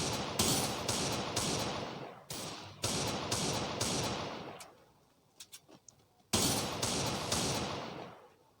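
Rapid bursts of gunfire in the battle royale game Free Fire, loud repeated shots in clusters with a short quieter gap of lighter clicks before another burst, no talk.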